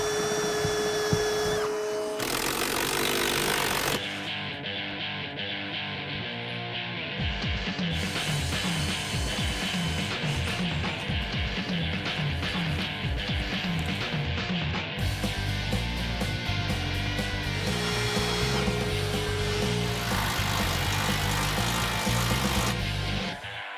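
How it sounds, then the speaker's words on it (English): Power tool whirring in repeated bursts, a drill biting through material with grinding, rattling texture, close and loud throughout. "Let's drill some holes."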